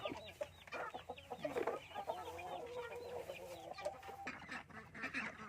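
Chickens cluck and chatter in a busy flock, overlapping calls filling the space at close range without a pause.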